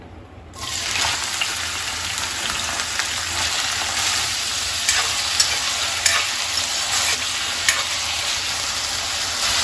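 Cut potatoes dropped into a few spoons of hot oil, a sudden loud sizzle that bursts in after a moment of quiet and then holds as a steady, close crackling hiss with occasional pops.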